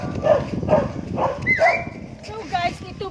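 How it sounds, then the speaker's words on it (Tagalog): Several dogs near the entrance to Linabo Peak bark in a rough series of short, close yaps while a person talks over them outdoors. "ang dami pong mga aso dito"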